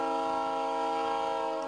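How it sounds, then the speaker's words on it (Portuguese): A loud, sustained multi-tone train horn blaring close by as a train approaches with headlights on during a train-car crash simulation, steady for the whole moment. "O trem se aproxima com faróis acesos e buzina."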